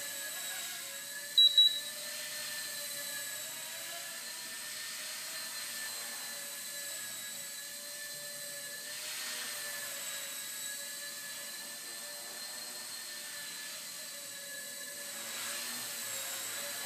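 A Blade Nano CPX micro RC helicopter hovers indoors with a continuous high-pitched rotor and motor whine, steady and near, swelling slightly at moments, with a brief tick near the start.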